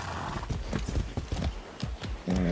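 Horse hooves clip-clopping in the video game Far Cry 6, a steady run of close, sharp hoofbeats under game ambience, with a brief snort or whinny at the end.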